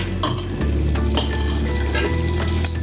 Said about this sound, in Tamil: இப்படி எண்ணெயில் நல்லா எண்ணெய் காஞ்சோடனே எண்ணெயில் ஊற்றிட்டு